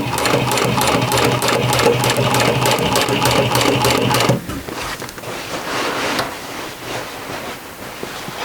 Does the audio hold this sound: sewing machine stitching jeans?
yes